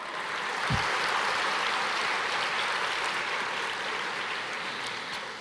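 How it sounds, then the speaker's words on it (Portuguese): Church congregation applauding the Lord, a steady dense wash of clapping from a large crowd that continues evenly throughout without speech. "Aplauda o Senhor."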